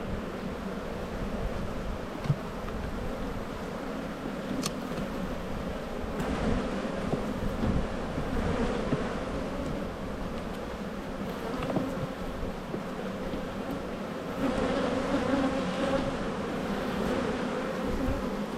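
Honeybees swarm around an opened hive whose queen is making them sting, a dense continuous buzzing that swells and fades slightly over outdoor wind noise.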